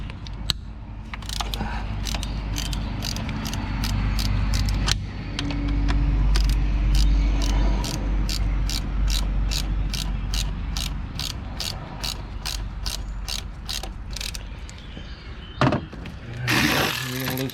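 Ratchet wrench loosening a bolt on the A/C compressor of a 2014 Hyundai Accent, a fast run of sharp metallic clicks in a steady rhythm, close and loud, with a pause, a clunk and a short rattle near the end.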